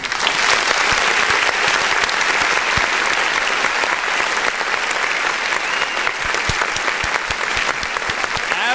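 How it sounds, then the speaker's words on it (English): A large audience claps steadily and loudly throughout, a dense sustained wash of applause with no break, cheering for a woman at a political talk event. "We're gonna have to clap for that Asian woman."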